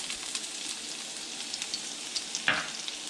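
Garlic sizzles in hot oil in a pan, a steady crackling fry with faint stirring scrapes and one louder spatter near the end.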